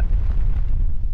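A tank gun shot landing on a target in World of Tanks: a loud, sustained low rumbling boom that fills the whole moment with no talk over it.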